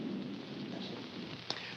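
Thunder in the mountains gives a low, distant rumble blended with a steady rain-like wash, with a faint sharper crack near the end.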